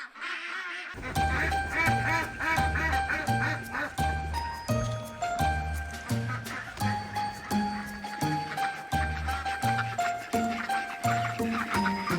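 Farm ducks quack in a lively, rapid series of repeated calls. Jingling and hoof-like clatter sound alongside them, close and continuous throughout.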